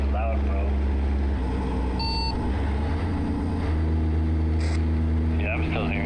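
A heavy truck engine drones steadily and loudly in American Truck Simulator while hauling cattle cross-country, with a few short electronic beeps over the low hum.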